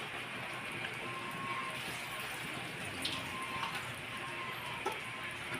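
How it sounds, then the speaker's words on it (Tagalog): Water being poured into a pan of spaghetti sauce simmering over low heat on a home stove gives a continuous splashing wash, fairly soft and steady, with a few small clinks. "Nilagyan ko na siya ng tubig ito."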